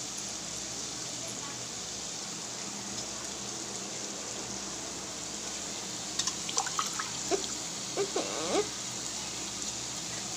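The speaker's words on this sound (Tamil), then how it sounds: "இப்போ நம்ம வந்து தண்ணி ஊற்றிக்கலாம்" Water is poured into a cooking pot for soup, with a few brief splashes and trickles in the second half over a steady background hiss.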